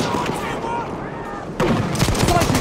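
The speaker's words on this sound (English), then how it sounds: "Look out! Machine gun!" A machine gun fires in the Battlefield 1 first-person shooter amid loud battlefield noise. A sharp, louder burst cuts in partway through, with voices shouting over the din.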